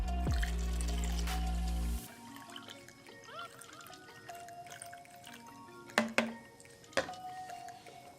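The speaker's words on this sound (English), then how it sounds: "We're gonna go ahead and put some water in here, and we're gonna test it out." Water pouring into a Mighty Mug, a steady stream running for about two seconds, then quieter dripping and a few sharp knocks against the mug, heard close and fairly faint.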